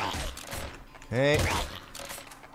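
Rapid bursts of Splinter Gun fire in the video game Nuclear Throne, a crackling mechanical volley with ratcheting clicks, loudest in a short surge midway through and lighter shots around it.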